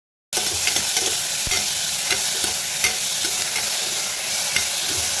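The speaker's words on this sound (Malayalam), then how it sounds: "ഉപ്പ് നന്നായിട്ട് നമുക്കൊന്ന് വഴട്ടാം" Chopped onion with salt sautéing in a pan for aloo mattar curry, a continuous bright sizzle that starts after a brief silence, with a spatula scraping now and then.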